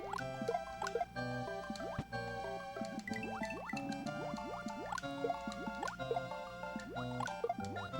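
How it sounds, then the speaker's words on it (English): Water-level game sounds from JUMP: a steady stream of bubbly, dripping electronic blips with rising and falling pitch sweeps over a looping melodic background, continuous and fairly loud with no talking. "Let the sounds of the water level soothe your soul"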